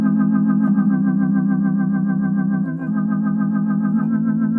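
A 1950s Hammond M3 organ, long stored in a flooded, muddy barn, holds a sustained chord with a slow, choppy, uneven vibrato warble, loud and steady throughout with a slight dip partway.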